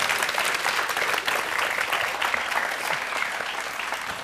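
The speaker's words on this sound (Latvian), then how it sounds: "Aplaus." Audience applause, a dense and steady wash of many hands clapping close by that holds at an even level for the whole stretch, with no break and no talking over it.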